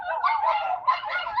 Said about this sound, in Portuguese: Esperar um pouquinho essa cachorrada. Agora nós temos um cachorro aqui. Cachorro tá incomodando.